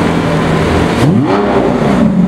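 A car accelerates away beside a Ferrari GTC4 Lusso on a cold day, its engine revving up in a loud rising sweep that eases off as it pulls into the distance.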